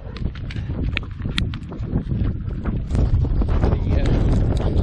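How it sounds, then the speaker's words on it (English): Blustery wind rushes and rumbles steadily across the microphone during an endurance horse ride at Revesby Park, with irregular gusts and scattered clattering sounds in the background. "It's windy and breezy now."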